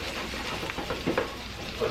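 Half an onion and potatoes frying in a pan for a potato and egg pancake, a steady close sizzle with soft stirring scrapes as the mixture is moved and flattened.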